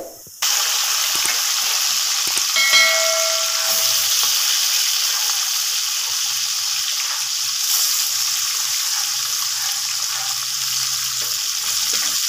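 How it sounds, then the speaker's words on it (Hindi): Rohu fish frying in hot oil gives a steady, loud, dense sizzle throughout, with a few brief clinks and stirs near the start and no talk. "इसी तरह से हम सारे मछली को फ्राई करेंगे"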